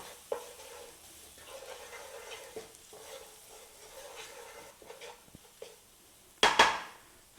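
Whole spices frying in a pan for a garlic chili chicken curry, a soft sizzle with scattered stirring taps and clinks, ending in a louder metallic clatter near the end.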